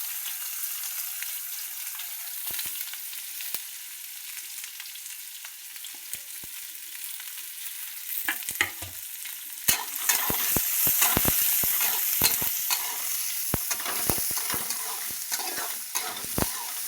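Onions and green chillies fry with curry leaves in a pan for poha. A quiet, low sizzle builds into loud clattering spoon scrapes and crackling bursts over the second half.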